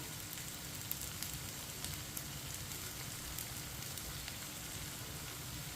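Okra (bhindi) for besan bhindi sizzles steadily in a pan over a medium flame, a continuous close crackling hiss with fine popping spatter and no voices.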